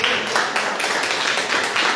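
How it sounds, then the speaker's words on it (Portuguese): Church congregation clapping for Jesus in a steady, dense burst that fills the space throughout, with faint voices mixed in. "dá uma salva de palmas para Jesus"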